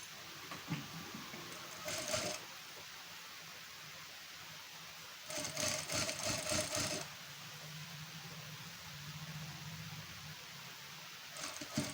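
Sewing machine stitching a square neckline on a blouse, short bursts of rapid mechanical whirring at intervals separated by quiet background hiss.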